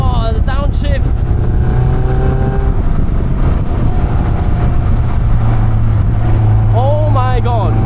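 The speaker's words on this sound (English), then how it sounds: "Whoa, the downshifts!" A Caterham 340S engine in a close in-car view, loud and throaty, blips up sharply through repeated downshifts with rising and falling revs while a driver's excited voice breaks in over it.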